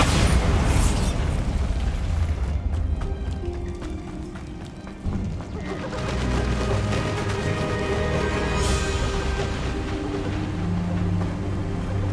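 Bombarda blasting spell detonating in Hogwarts Legacy, a loud booming burst that rolls into a dense rumbling roar and sustained crackle, continuing alone without talk.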